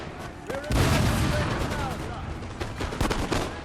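Volleys of musket fire crack out across a Napoleonic battlefield in Total War: Napoleon, a ragged run of overlapping gunshots with louder bursts throughout, mixed with battle ambience and someone talking over it.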